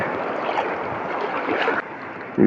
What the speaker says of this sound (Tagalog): Malaki alon dyan.